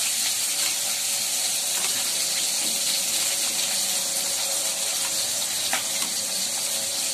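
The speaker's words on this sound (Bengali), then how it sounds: "ভালো করে নাড়ছি আলুগুলো আমি ভালো করে ভেজে নেব আলুগুলোকে" Mashed potatoes with green chillies being stirred and fried in a pan, a steady close sizzle with soft scraping running throughout, no talking.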